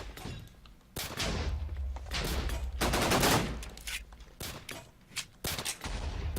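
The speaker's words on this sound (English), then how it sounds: "Snipers do the most damage, but they shoot really slow." Sniper rifle gunfire in a video game, heavy single cracks spaced well apart, each trailing into a rolling echo, loud and close with quieter gaps between shots.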